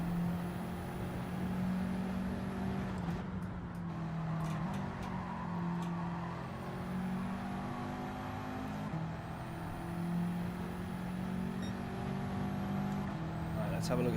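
A race car engine in Gran Turismo 7 drones steadily as it pulls through the upper gears, with small pitch steps at the shifts, sustained and moderately loud.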